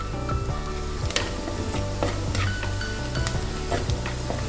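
Sliced onions softening in hot oil in a pan for a tapioca masala, sizzling steadily while a spoon scrapes and knocks against the pan in repeated stirring strokes, no talk.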